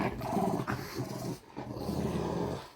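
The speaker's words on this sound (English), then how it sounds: "They're playing with a toy. This is how they play. You can hear the growling." Playing French Bulldogs growl and snarl over a toy, a low continuous rumbling growl up close with brief pauses, fairly quiet overall and free of talk.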